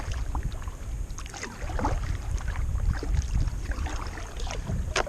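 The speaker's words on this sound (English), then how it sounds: "We're paddling over the top of a little island." A kayak paddles across a lake in Tasmania with steady paddle strokes and water swishes close by, under continuous wind rumble on the microphone.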